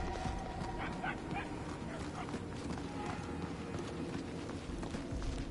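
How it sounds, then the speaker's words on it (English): A dog barks somewhere in the PS5 game Guardians of the Galaxy, short muffled yips scattered through a busy, droning game soundscape, fairly faint and mixed with footsteps-like clatter. "We are no closer to the source of the barking."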